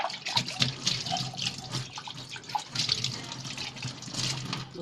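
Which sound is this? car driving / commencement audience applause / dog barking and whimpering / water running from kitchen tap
water running from kitchen tap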